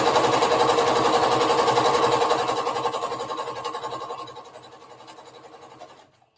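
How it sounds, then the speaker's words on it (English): A sewing machine stitches down a circle dress in a steady, rapid run that gradually slows and softens before stopping, close and alone. "I'm just holding on to them as I sew it down."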